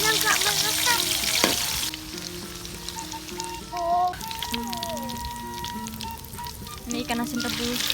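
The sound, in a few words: frying eggplant in a pan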